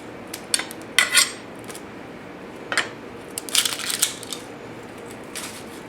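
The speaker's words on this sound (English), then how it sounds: "Might be overdoing the peeling out the outer edge" Papery outer layers are peeled off a whole onion in short, dry crackling bursts with quiet pauses between them, close by and fairly soft.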